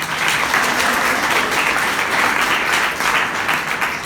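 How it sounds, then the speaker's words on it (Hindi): Loud, steady applause from a college debate audience fills the whole stretch, dense clapping without a break and no voices standing out. "जोरदार तालियां।"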